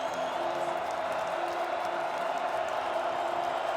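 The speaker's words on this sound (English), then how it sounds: "This crowd's getting loud on 3rd down" Football stadium crowd at an FCS quarterfinal between Montana State and Stephen F. Austin building noise on third down, a steady, distant wash of roaring voices that holds even throughout.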